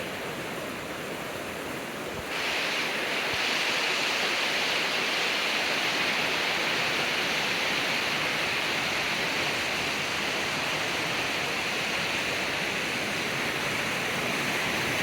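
A mountain creek swollen with spring runoff rushes loudly and continuously, a dense broadband roar that jumps in level after a couple of seconds as it is approached, with no other sounds standing out.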